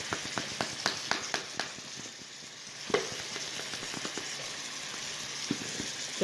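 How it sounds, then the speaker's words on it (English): Chicken fries in melted butter in a pan with a steady sizzle. Sharp pops and clicks break through it, likely utensil taps and stirring, near and moderately loud. "my butter is melted and I started placing the chicken in"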